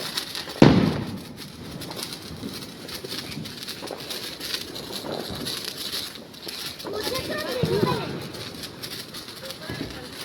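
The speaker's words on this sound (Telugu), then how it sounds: "పిల్లలతో మేము కూడా కలిసి జాయిన్ అయ్యి ఫైర్ క్రాకర్స్ కాల్చాము" Diwali firecrackers go off at a family home celebration, one sharp loud bang early on and a softer burst later, heard amid ongoing chatter and voices.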